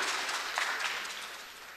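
Audience applause at a Harlem community debate, a brief, fairly faint wash of clapping heard from a distance.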